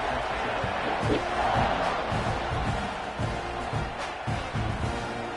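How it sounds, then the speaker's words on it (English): Loud stadium crowd buzzing and roaring at an American football game after a score, a dense continuous wall of voices with swelling cheers, heard near and alone. "this crowd is buzzing after that last score."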